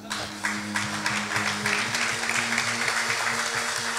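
A church congregation applauds in steady, moderate clapping that runs throughout, with faint voices and cheers mixed in beneath a low sustained hum.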